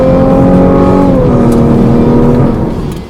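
A Cadillac CT6 Platinum engine revs with rev matching, a loud, sustained engine drone with shifting pitch that holds steady and then fades toward the end, with no talking.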